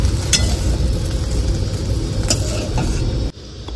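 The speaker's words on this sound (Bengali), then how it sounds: "এরপরে ভালো করে নাড়ি চাড়িয়ে নেব।" Soybean chunks fry in oil with turmeric in a hot karahi while being stirred inside a truck, producing a continuous close sizzle with scraping spatula strokes that stop abruptly near the end.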